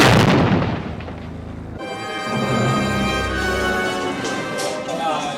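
A pyrotechnic fire effect goes off on an Indiana Jones film set. It opens with a loud roaring whoosh, then settles into a steady bright crackling burn with a sustained rumble beneath it.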